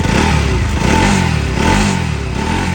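A Bajaj Pulsar NS 200 motorcycle engine, freshly rebuilt after headwork, runs loudly up close with a throbbing idle and rising revs.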